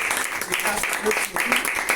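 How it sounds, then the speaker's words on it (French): A brief round of audience applause at a gathering celebrating new bacheliers, the clapping running under a speaking voice for the whole two seconds. "Merlin que nous pouvons aussi applaudir"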